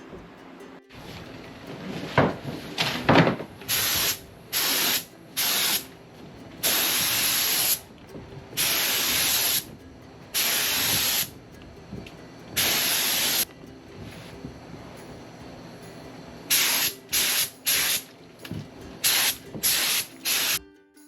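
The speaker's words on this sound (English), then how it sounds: "It's time to refill and go back in for the 3rd and final coat." A spray gun lays the final clearcoat on a 1987 Jeep Wrangler, loud close hissing bursts of a few seconds each, repeated in a stop-start rhythm with short pauses between passes.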